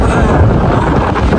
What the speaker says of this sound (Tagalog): Grabe, napakalakas ng hangin.